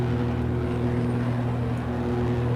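A steady, droning aircraft engine hum from AI traffic in the flight simulator X-Plane 11, sounding loud and close with a constant low tone and no talk.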